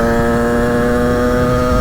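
A Honda HM 86 motorcycle with an aluminium top end holds a loud, steady high rev close by, its engine note buzzing continuously with strong harmonics and no speech.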